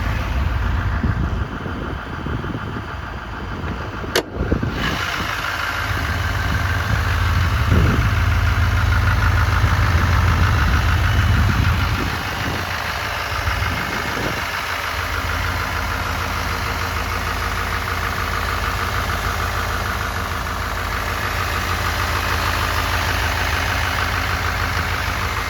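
A used 2019 Chevrolet Silverado 3500 truck idles steadily, its low engine drone and exhaust rumble held for the whole stretch at close range, with a few faint knocks and shifts early on and no talk.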